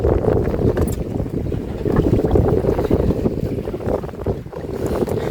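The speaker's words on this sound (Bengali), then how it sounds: "প্রচণ্ড ঢেউ কিন্তু বন্ধুরা, ওই পারের তুলনায় এই পারে আরো প্রচণ্ড ঢেউ, পুরো হাওয়াটা এসে লাগছে আমাদের নৌকার গায়ে।" Strong wind buffets a fishing boat on rough water in the Sundarbans, a steady loud rush of gusts and wave wash against the hull, close and continuous with no talk.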